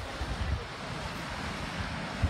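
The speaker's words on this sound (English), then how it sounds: "Whoa, look at the waves, guys." Ocean surf rolls in at a beach around Los Angeles, California, a steady broadband wash of breaking waves mixed with gusty wind buffeting the microphone, with no voices.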